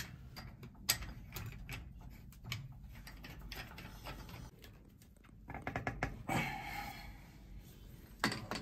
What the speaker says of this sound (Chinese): 螺丝拧好，方向调整，